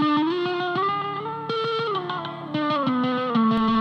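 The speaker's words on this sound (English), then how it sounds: "I guess some kind of tremolo a little bit of thing, a trill, yeah. Right? With distortion, that could kind of come out kind of cool." A distorted electric guitar plays fast trills and shifting sustained notes with a buzzy, sitar-like tone. The phrases are loud and continuous, with no talking.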